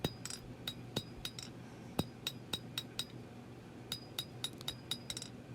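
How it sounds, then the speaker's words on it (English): Hammer blows on a small hand-forged blade at the anvil, shaping the transition between handle and blade: a steady series of sharp metallic clinks, roughly two per second, ringing clearly in a quiet shop with no talk. "We'll hammer in our transition from the handle to the blade."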